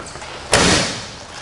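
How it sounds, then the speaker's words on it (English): A 1968 Chevrolet Camaro RS door, with weather stripping and seals in good condition, swings shut in one soft, solid close: a single muffled thump near the mic, then brief fading room tone. "And again, door closes nice and easy there."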